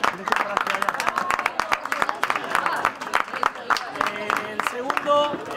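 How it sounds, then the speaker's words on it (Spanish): A crowd claps at a padel tournament trophy ceremony as a third-place award is handed over. Dense, uneven handclaps sound close and lively throughout, with voices talking underneath. "Un aplauso."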